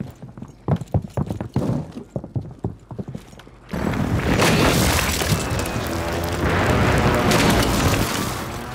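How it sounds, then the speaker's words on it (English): Airstrike explosions in the Call of Duty video game, a rapid clatter of sharp hits followed by a sudden heavy roaring rumble of blasts that sustains loudly for several seconds, no voices. "Up, oh, airstrike."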